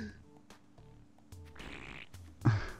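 Cartoonish fart from the video game Totally Reliable Delivery Service, a short, loud burst near the end that rises above low game noise and chatter.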